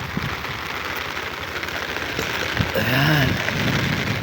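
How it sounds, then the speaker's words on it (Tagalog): Steady rain hisses over a hilly province landscape in the Philippines, a broad, even wash of sound with a faint voice-like tone briefly rising near the end. "Yung malakas ang ulan dun guys"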